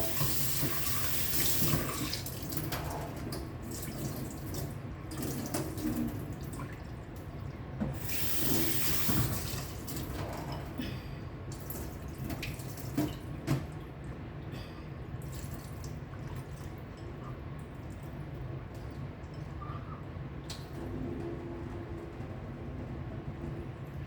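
Chicken hearts being washed under a running kitchen tap, a steady close stream of water with splashing and shifting gurgles as the hearts are rinsed by hand, no talking.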